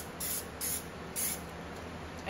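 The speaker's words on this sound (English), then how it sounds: "I will spray the other side of my sunflower" Three short hissing bursts of an aerosol spray can, close up, separated by brief pauses, with no talking.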